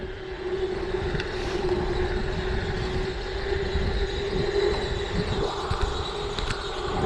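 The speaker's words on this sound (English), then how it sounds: "Hear that belt squealing." A belt squeals in a steady, thin whine during a night group bike ride through Columbus, Georgia, held unbroken over constant street and traffic rumble.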